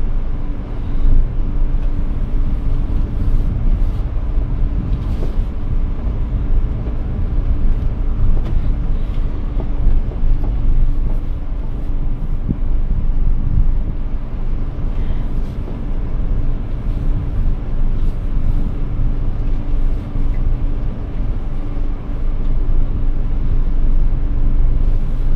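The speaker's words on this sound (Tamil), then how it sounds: "ஃபர்ஸ்ட் கியர் தான் கைஸ் போட்டுட்டு ஓட்டிட்டு இருக்கேன்." A car creeping slowly down a street in first gear, its low engine drone and road rumble steady and continuous throughout with no talk.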